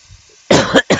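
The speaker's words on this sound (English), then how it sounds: "I'm just getting over a sore throat type cough" A single sharp cough from a sore throat in two quick bursts, close and loud, after a brief quiet moment.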